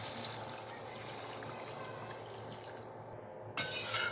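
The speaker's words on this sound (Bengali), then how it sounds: "এবার আমি গরম জল দিয়ে দেবো একটু" Hot water is poured into a simmering red egg curry in a pan, a steady liquid pour and bubbling hiss that continues throughout, with a brief break and then a louder splash near the end.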